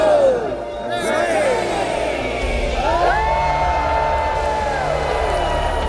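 A crowd gathered for a Christmas tree lighting in Solvang cheers and whoops in a rolling outdoor swell, with shouting voices and babble rising over steady street noise throughout.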